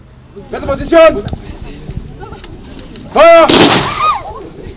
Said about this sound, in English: A 21-gun salute rent the air